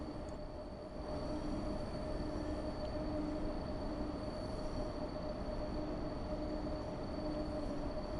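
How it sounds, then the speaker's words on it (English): A Class 90 locomotive hauling freight in a train simulator game runs with a steady rumbling roll, and a thin, faint squeal of the rails rises and falls intermittently over the constant noise. "I also like the little rail squealing that you hear"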